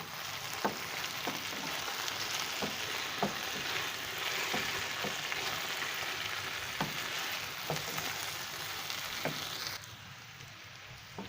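Potatoes fry in a pan for a Sindhi-style dish with a steady, moderate sizzle. Spaced spatula taps and stirring clicks sound over it, and the sizzle softens near the end. No voices are heard.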